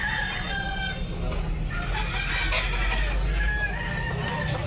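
A gamecock stag rooster at a backyard breeders' yard in Tabunok, Talisay, Cebu crows and clucks repeatedly over steady background noise, fairly close.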